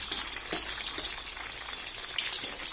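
Eggs and mushrooms frying in a pan give off a steady, close, crackling sizzle with small spitting pops throughout.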